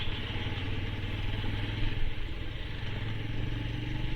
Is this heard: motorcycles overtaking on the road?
yes